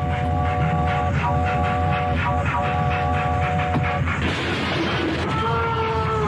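A loud, continuous train rumbles past with rhythmic wheel clatter and repeated horn blasts, the tone shifting near the end.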